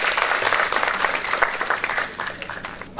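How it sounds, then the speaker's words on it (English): A conference audience applauds paper presenters, with dense, steady clapping close and loud that thins slightly toward the end. "I request to give an applause to all the paper presenter for their contribution."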